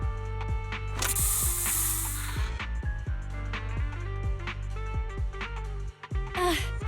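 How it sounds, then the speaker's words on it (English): A special Bangbu spray fires in Zenless Zone Zero as a loud burst of hissing spray, layered over game music with mechanical clicks and a second short spray burst near the end. "Here, have a taste of this special Bangbu spray."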